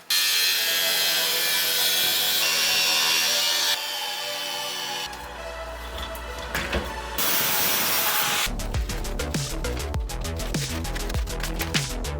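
Plastic trim on a Chevrolet Colorado ZR2 Bison is cut along a taped line with the AEV trim kit to fit 33-inch tires. A loud power tool grinds up close in distinct bursts that shift in pitch and texture as it cuts.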